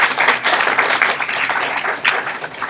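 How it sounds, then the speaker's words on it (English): A crowd claps in a dense, continuous burst of applause, close and lively, with a few voices mixed in. "So, round of applause. Lots of round of applause."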